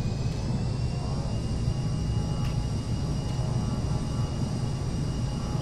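An aircraft engine powers up during a formation training flight, a steady broadband roar that stays loud and constant throughout.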